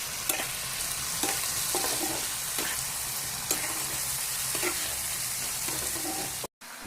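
Potatoes frying in hot oil with turmeric and salt, a continuous close sizzle broken by regular scraping stirs every second or so, with a brief cut to silence near the end.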